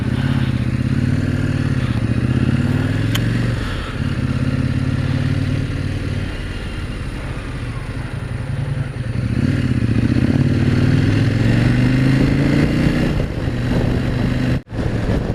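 A KTM motorcycle rides along a road, its engine droning steadily with rising and falling pitch as the rider shifts and accelerates, loud and close with wind buffeting throughout.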